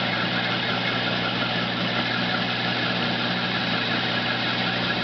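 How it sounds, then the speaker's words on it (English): A homemade metal lathe cutting metal holds a steady, loud machine drone close by. The hum stays even throughout, with no talking. "always amazing to see the wire of metal here when I'm using my lathe."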